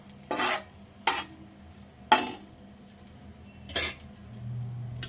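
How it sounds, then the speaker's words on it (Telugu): Dried red chillies fry in a pan for a fish curry, heard as four or five separate scraping stirs over a faint, low sizzle. "ఎండుమిర్చిని అయితే కొంచెం వేపుకోవాలి, వేగాలి."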